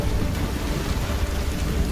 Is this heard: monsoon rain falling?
yes